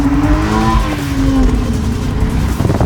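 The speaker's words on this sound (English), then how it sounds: "I'd just do a wheel spin and crop up the road" A BMW bought wrecked from auction spins its wheels, with tire squeal and a revving engine rising over a steady roar, close and loud.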